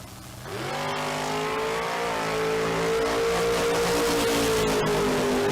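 Top ET drag race car at London Dragway launching and accelerating hard down the strip, a loud sustained engine roar with rising pitch that stays close and intense throughout, no talking.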